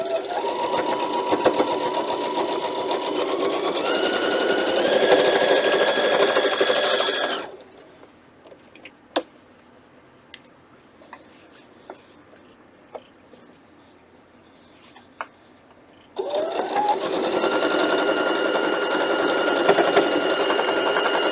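A sewing machine stitching pinned quilt fabric runs in a loud, steady whirring hum with shifting motor pitch, pauses for a stretch of quiet with small clicks and handling sounds, then starts up again.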